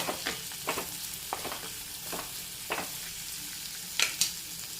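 Sliced onion and two green chilies frying in hot coconut oil, a steady close sizzle broken by about half a dozen scraping spoon strokes spaced at fairly regular intervals.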